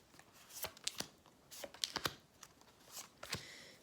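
A deck of tarot cards is handled and shuffled, giving a series of sharp, crisp riffling snaps and flicks in irregular bursts, close and fairly quiet.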